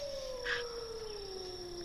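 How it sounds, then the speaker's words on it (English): A wolf howl in a tabletop fantasy game, echoing through a cave: one long, steady, falling tone holding over nearly two seconds, with a faint higher overtone above it and no talk. "So I just hear the wolf echo at that point."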